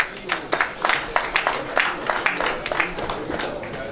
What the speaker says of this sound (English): Don't you want to clap for yourself?